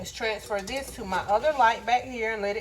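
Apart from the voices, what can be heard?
No everyday noise stands out behind the speech.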